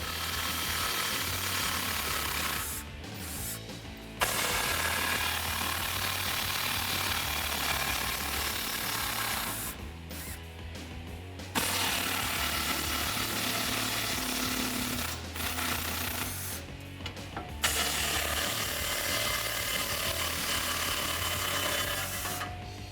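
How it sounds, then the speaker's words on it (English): A small impact gun with a 13mm socket removing a brace beneath a 2015-2018 Ford F150, three long loud rattling bursts separated by short pauses, with no voices. "Now with my small impact gun and a 13mm socket, we're gonna go ahead and get this small brace out of the way"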